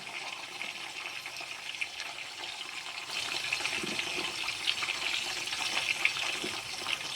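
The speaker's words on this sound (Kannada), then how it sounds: "ಇವಾಗ ಬಿರಿಯಾನಿ ಸ್ಪೈಸಸ್ ಎಲ್ಲ ಫ್ರೈ ಆದ ನಂತರ ಇದಕ್ಕೆ ಈರುಳ್ಳಿನ ಹಾಕ್ತಾಯಿದ್ದೀನಿ." Sliced onions tipped into hot oil with frying biryani spices give a steady, loud sizzle that thickens partway through and keeps crackling on its own.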